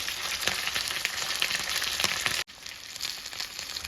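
Fish coated in masala fries in hot oil with a loud, steady sizzle and crackle, close by, broken only by a brief dip partway through.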